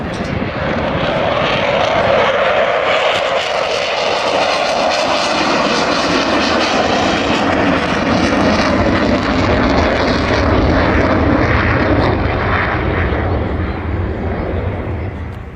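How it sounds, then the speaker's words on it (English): Avro Vulcan XH558 bomber flying at an air display at Cosford, giving a loud, continuous roar that swells and holds for the whole passage. "When this aeroplane lands in October, you will never see another Vulcan."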